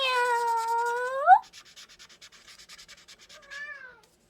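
A cat gives a long, drawn-out meow that rises at the end, then a rubbing, scratchy patter, and finally a shorter, softer meow.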